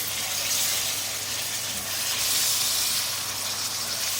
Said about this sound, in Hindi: कीमे को फ्राई करेंगे प्याज के साथ तो इसका कलर चेंज हो जाए, इतना फ्राई करना है।